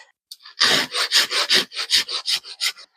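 Hand file rasping across the teeth of a chainsaw chain: about a dozen short, even strokes in a steady rhythm, close and fairly loud with no talk.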